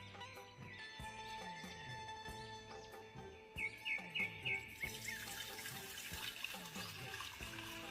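In a cartoon scene, water streams into milk as a soft running, splashing flow, with light bird chirps twittering over it and no voices.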